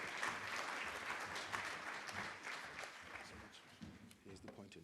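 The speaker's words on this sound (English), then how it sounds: "Please give them a warm round of applause." A crowd applauds steadily at a public-private forum in Namibia, a dense wash of clapping that carries on throughout and fades slightly at the end.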